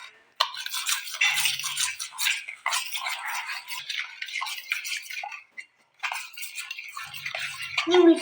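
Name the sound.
mixing ingredients in a bowl for bread fry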